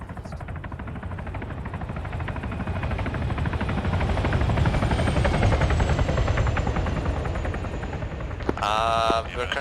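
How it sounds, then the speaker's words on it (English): A helicopter with a door gunner in a military video game, its rotor thumping steadily and loud throughout, swelling as it nears, with rapid gunfire layered in and a brief burst of radio-like tones at the end. "Looks like that helicopter's got a door gunner on it."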